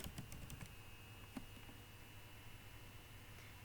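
Keyboard typing at a computer, a few quick clustered keystrokes near the start and one more a bit later, faint and close over a low steady hum.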